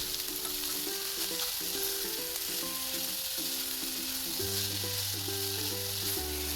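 Spam sisig sizzles steadily in a hot pan, a constant crackling hiss with no talking.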